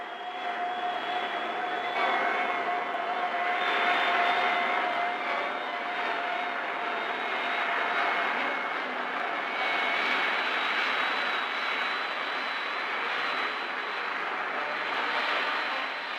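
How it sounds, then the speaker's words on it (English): The first American jet plane flying in 1942, heard on archival film as a sustained whining engine roar with thin steady tones, holding level across the whole stretch. "These are the original films of the first jet plane ever to fly in America."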